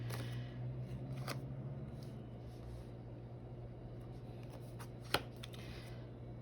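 Tarot cards being shuffled by hand, a soft continuous riffling and sliding with occasional sharper snaps, quiet and close with a low hum underneath and no talking.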